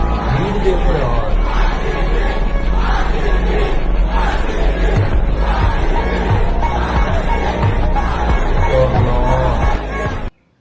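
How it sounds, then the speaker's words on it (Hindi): A large crowd gathers outside Chinnaswamy Stadium in Bengaluru after the RCB IPL trophy celebration. Dense, loud babble of many voices and shouts fills the whole stretch with steady noise, then cuts off abruptly at the end. "भीड़ देखो यार"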